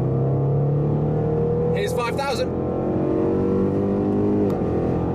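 Range Rover SVR engine held high in manual mode above 4,500 rpm, a loud sustained drone that climbs slowly in pitch from inside the cabin, with a short burst of speech partway through.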